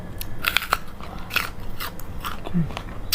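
Crunchy chocolate-coated jumbo jujube fruit bitten close to the mic: several sharp crisp crunches with chewing in between, no talking.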